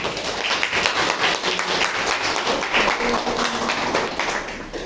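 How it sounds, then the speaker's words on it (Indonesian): A room full of people claps steadily for several seconds, a dense, even patter of applause with no pauses. "beri tepuk tangan."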